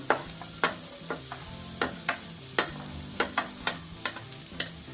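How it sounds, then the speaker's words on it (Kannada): Cabbage, beans and carrot are stir-fried in a pan for egg fried rice, with a steady sizzle under repeated rhythmic scraping strokes of a spatula, close and clear. "ಹಾಗೆ ಕ್ಯಾರೆಟ್ ಇಷ್ಟನ್ನು ಹಾಕಿ ಚೆನ್ನಾಗಿ ಫ್ರೈ ಮಾಡ್ಕೋಬೇಕು"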